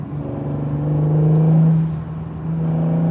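Engine of an Acura NSX sports car while driving, a steady low drone that swells slightly as it pulls, close and continuous, without any talk over it.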